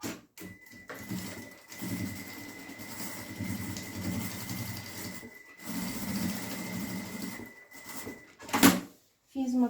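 A sewing machine stitches through bag material beside a zipper, running in bursts of steady mechanical whirring, with brief pauses and a short clatter near the end.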